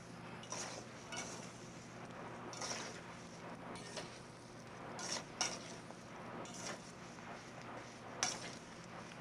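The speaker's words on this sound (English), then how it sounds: "Mix it up." A spoon stirs fruit steeping in a cup of sweet wine inside a bowl, giving faint, repeated scraping sweeps with small clinks against the dish. The strokes are spaced unevenly over a low, steady kitchen hum.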